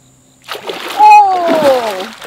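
A large blue catfish, over 30 pounds, thrashes at the surface of river water while being pulled in on a trotline, producing a loud burst of splashing and sloshing; a voice is heard over the commotion.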